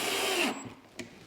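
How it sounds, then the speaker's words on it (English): A power drill drives a coarse screw into wood for a table saw infeed extension, a loud whirring run that stops abruptly halfway, followed by a short knock. "We'll get it started with the drill here."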